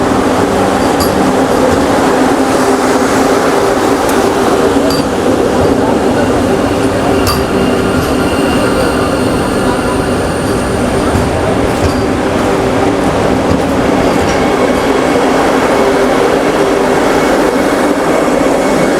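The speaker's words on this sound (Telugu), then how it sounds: "ఎవరో చైన్ లాగినట్టున్నారు, స్లో అయిపోయింది పాపం ట్రైన్" A Vande Bharat express on the Secunderabad to Tirupati run roars along steadily and loudly, a continuous close rumble with faint metallic clinks throughout.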